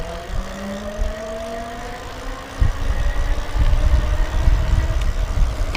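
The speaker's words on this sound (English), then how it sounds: "I did, of course, notice that this motor is a little bit noisier. You know, you can kind of hear it kind of growling." Growling motor of a Daymak EC1 carbon fiber electric bike under throttle, a steady whine with rising tones and a louder rumble of riding noise building midway, no talk.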